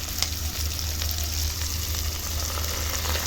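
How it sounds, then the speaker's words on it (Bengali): Onions, slit green chillies and spices frying together in a pan, an even, close sizzle with faint crackles and a low steady hum beneath. "যে কারণে হালকা ভাজা অবস্থাতেই মশলাগুলো এর মধ্যে দিয়ে আমি কষিয়ে নিচ্ছি"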